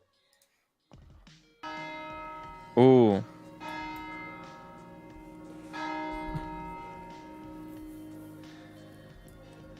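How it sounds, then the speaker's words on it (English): Church bells ring in the morning with a full, resonant peal. The ringing swells, a louder strike stands out near the start, and the tolling carries on under a brief spoken exclamation. "There's the bells."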